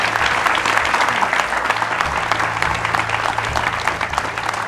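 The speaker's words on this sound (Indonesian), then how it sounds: "tepuk tangan boleh" Studio audience applause on an Indonesian talk show, dense continuous clapping filling the whole stretch at an even, loud level.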